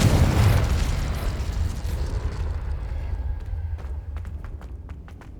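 The Confringo blasting spell goes off in Hogwarts Legacy with a loud, close explosive boom, then a rumbling roar that slowly fades while small crackling pops keep going near the end.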